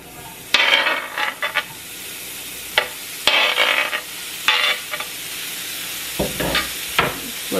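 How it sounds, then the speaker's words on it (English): Sausage pieces dropped into a hot pan for spaghetti sauce sizzle in loud bursts, with clattering stirring and pan scrapes between quieter stretches of frying. "So now just add in the sausage to the pan."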